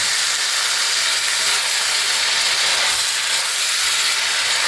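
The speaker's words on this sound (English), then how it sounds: "So we can now just add the meat straight in there. And we want to sear this very quickly" Mutton searing quickly in a hot karahi pan over caramelising onions makes a loud, dense, unbroken hiss close up for the whole stretch, without any voices.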